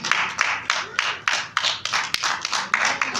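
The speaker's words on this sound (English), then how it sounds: "Clap your hand." Repeated hand claps in a steady rhythm, about ten sharp crisp slaps over a few seconds, close and fairly loud with no talking.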